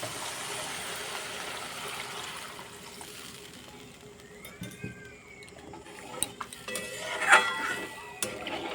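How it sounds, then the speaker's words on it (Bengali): Water is poured into a pan of eggplant curry cooking on a stove, a soft splashing wash joined by a few close clinks of a utensil against the pan and scattered knocks, moderately quiet with no talking. "এবার আমি পরিমাণ মতো ঝোল দিয়ে দেবো"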